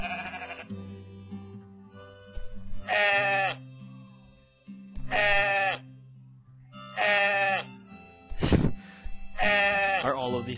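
Sheep in a farm video game give four loud, drawn-out bleats at regular intervals, each one a strained, wavering cry, with a sharp thump between the last two.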